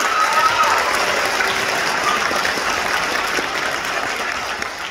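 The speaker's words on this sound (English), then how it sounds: "You've had a lot of applause tonight, Navjeet." Audience at a city council inauguration in a theatre breaks into sustained applause, a dense, even wash of many hands clapping that fades slightly toward the end.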